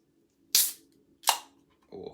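Two sharp pops, each trailing into a short hiss as a can of Non-Stop drink is cracked open, followed by a softer, duller sound.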